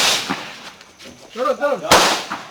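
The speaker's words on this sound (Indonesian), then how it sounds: "petugas pun mengeluarkan suara tembakan peringatan ke udara" A police warning shot fired into the air during an arrest: a single sharp crack near the start, then a second louder bang about two seconds later, with someone shouting briefly between them.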